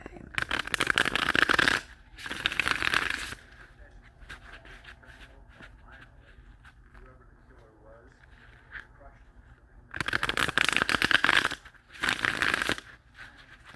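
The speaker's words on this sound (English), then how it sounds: "so I'm going to shuffle the deck" A deck of tarot cards is shuffled up close in loud riffling bursts, two near the start and two near the end, separated by a quieter stretch.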